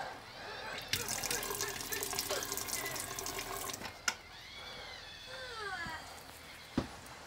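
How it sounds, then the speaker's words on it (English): Water runs steadily from a caravan tap in an off-grid setup, a moderate hiss lasting several seconds, broken by a few sharp knocks and a faint squeaky, chirping sound near the end. "Okay, got water."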